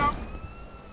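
An ambulance siren in the video game GTA San Andreas holds a thin steady wailing tone, faint and at a distance, with no voices over it.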